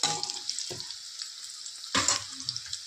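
Cabbage drops into onions already frying in a pan, a bright crackling sizzle that surges at the start and again near the two-second mark as more goes in, close and crisp, with no talk.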